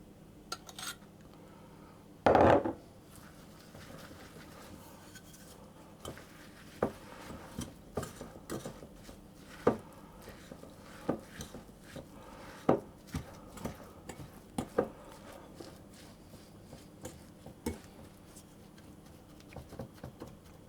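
Walnut cookie dough for Italian walnut cookies being mixed with egg white in a bowl, heard as scattered soft clinks and knocks of a utensil against the bowl in a quiet kitchen, with one louder bump early on.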